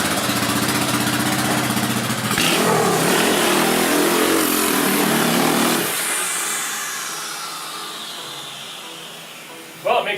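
A 150cc motor conversion engine roars steadily under load with a whooshing, buzzing drone, then eases off and fades toward idle before a brief final rattle.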